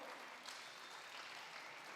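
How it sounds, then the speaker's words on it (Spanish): A church congregation at a Sunday general service applauds in a soft, even wash of many hands clapping, steady and fairly faint throughout. "un aplauso por favor"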